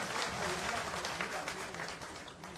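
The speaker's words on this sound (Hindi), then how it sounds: "जोरदार ताली बजाकर स्वागत करें" A crowd at an outdoor political rally claps to welcome a speaker, a dense patter of hands at moderate distance with a voice faintly audible underneath.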